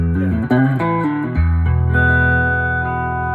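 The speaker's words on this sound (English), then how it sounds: "So that's your neck pickup. Really nice and warm." A 1950s Gibson Switchmaster electric guitar played through its neck pickup, a few warm chords struck in turn and then left to ring out with a long sustain, loud and close, with no talking.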